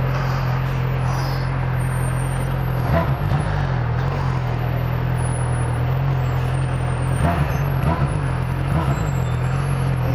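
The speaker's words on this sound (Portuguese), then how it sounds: "o caminhão do lixo tá foda" A garbage truck idles on a São Paulo street with a steady, loud engine drone and a few brief hissing or clanking bursts, heard from close range.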